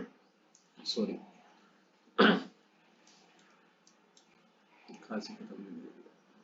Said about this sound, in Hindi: खांसी खत्म नहीं हुई।